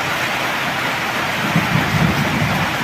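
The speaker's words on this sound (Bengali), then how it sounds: "বৃষ্টি বাড়তেছে, এই যে দেখেন" Heavy rain pours in a dense, constant roar, with low thunder rumbling beneath it partway through.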